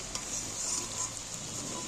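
Chopped onion frying in a pan for a potato and chicken curry, giving a faint, steady sizzle of oil heard close up with a few light stirring touches, no voices.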